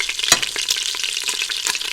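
Food crackles and sizzles steadily in a hot pan nearby, with a few sharper pops and faint stirring clatter.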